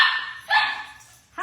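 Dogs shut away in a bedroom bark in two or three quick bursts, muffled and somewhat distant, with yips between them and no talk over them.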